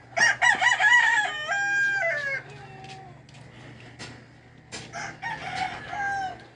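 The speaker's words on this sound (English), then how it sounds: "That's part of the reason for all the roosters." Fighting cocks crow in a Philippine yard: several long, loud cock-a-doodle-doos, one after another at close range, then another burst of crowing after a short lull, over a low steady hum.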